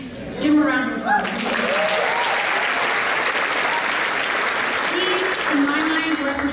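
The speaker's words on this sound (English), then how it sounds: "Let's give him a round of applause." A keynote audience at a youth convention breaks into sustained, loud applause that fills the room, with a speaker's voice briefly audible at the start and end.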